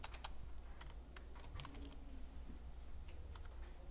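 Quiet, close computer keyboard typing during a design software lesson, with scattered soft key clicks over a low hum and no speech.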